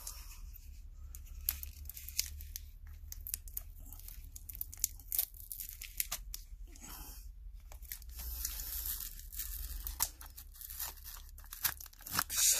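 A wrapped package of coins being opened, with close crinkling and tearing of packing material in short bursts and scrapes, no voices.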